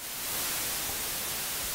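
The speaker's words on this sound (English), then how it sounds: "So we'll bring up the white noise" Steady, loud hiss of white noise, broadband and unchanging, with nothing else present.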